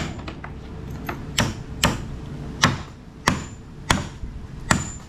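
A hammer knocking nails through corrugated roofing sheet into wood, about eight sharp metallic strikes at an irregular, unhurried pace, fairly close, with no talk.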